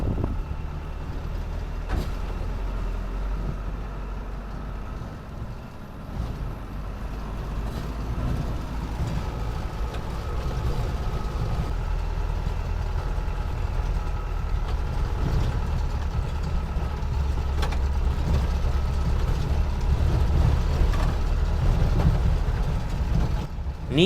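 A local bus in Kumily with its engine running, a steady, close diesel rumble and idle that holds for a long stretch, with occasional brief hisses and clunks.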